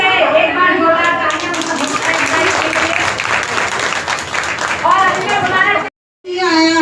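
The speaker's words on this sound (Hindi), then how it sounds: "तालियां" Loud, sustained applause from an audience of women at a Constitution Day celebration in Ghaziabad, dense clapping and crowd noise filling nearly seven seconds, with voices rising through it and a brief cutoff near the end.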